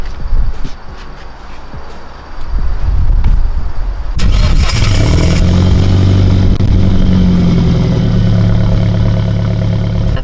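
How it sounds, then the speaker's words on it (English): A 1750cc car engine at a supercar exhibition cranks and fires up loudly after a few seconds of background noise, then settles into a steady, throaty, rumbling idle close by. "let's fire it up so that we can hear the sound. And it's quite loud."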